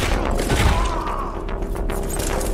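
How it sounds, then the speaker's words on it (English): Gunfire from a scene in the 2021 horror film Malignant, a loud, dense barrage of booming shots and crashing impacts with no pauses, blended with a heavy film soundtrack. "He just tried to shoot her."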